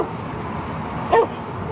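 A police dog gives a single sharp bark during a roadside police stop, loud and close against a steady low background hum, with no talking.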